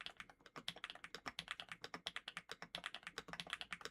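Rapid, steady keystrokes on an Epomaker HE75 v2 TMR mechanical keyboard, close and crisp, with dense overlapping clicks throughout and no talking.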